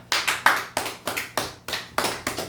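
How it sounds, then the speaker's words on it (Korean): In a Baptist church Sunday service, the congregation claps in thanks: a series of about nine sharp, evenly spaced claps with short decays, fairly close and moderately loud, with no voices. "감사 박수합시다."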